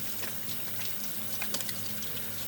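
Water runs from a sink tap as hands are rinsed, a steady close splashing stream with a few brief drips and clatters and no talking.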